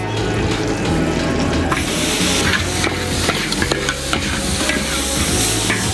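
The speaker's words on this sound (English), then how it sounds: "here you get a nice little sizzle" Loud, continuous sizzling of ham stir-frying in a hot wok, with scraping and stirring clatter throughout.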